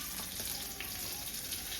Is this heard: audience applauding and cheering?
no